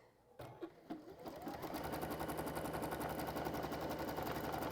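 A sewing machine runs steadily with a fast, even mechanical whir as it zigzag-stitches binding over raw fabric edges, starting with a few short bursts before settling into continuous close-up stitching.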